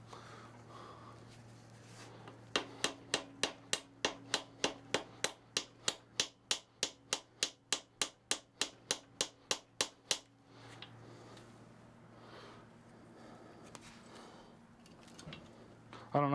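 Small hammer tapping metal during the teardown of a 6.1 Hemi engine, a steady run of about twenty sharp, evenly spaced close-up strikes that then stops, leaving quiet shop ambience.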